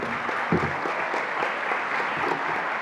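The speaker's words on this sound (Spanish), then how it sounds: "Les pido que por favor recibamos con un fuerte aplauso al profesor Yesid Vicente Aranda" Audience applause welcoming a professor to a university lecture session on rural development, a steady dense wash of clapping that stays fairly loud and even throughout.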